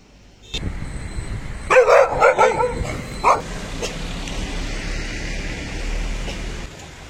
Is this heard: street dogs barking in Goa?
yes